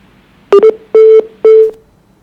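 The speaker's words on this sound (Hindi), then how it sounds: "फोन कट गया" A phone call cuts off with a short run of electronic beeps: a quick double tone followed by two longer steady tones, loud and clear with no talk over them.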